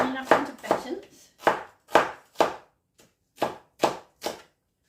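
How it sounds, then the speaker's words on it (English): A knife slices an onion into batons on a cutting board, giving about ten distinct, sharp, close chopping knocks in an uneven rhythm with short gaps between them. "So I'm going to slice my onion up into batons."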